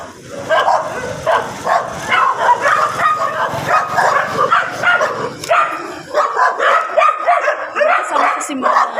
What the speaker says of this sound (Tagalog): Kasama niya ang mga alaga niyang aso.